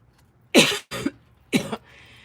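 Three short, harsh coughs close by while handling Scotch bonnet peppers, the first two in quick succession and the third after a brief pause.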